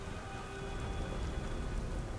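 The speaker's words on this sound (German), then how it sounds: "Gottverdammter Regen. Sieht nicht aus, als ob es jemals wieder aufhört." Steady, dense rain pours down in the Beyond: Two Souls game world, a constant hiss with a low rumble beneath and no pauses, with no voices over it.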